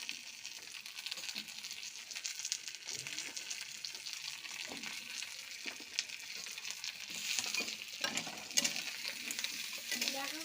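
Ridge gourd and potatoes fry in a pan for a fish curry, a continuous crackling sizzle broken by scraping stirs and clinks of the spatula, close and moderately loud, with no one talking.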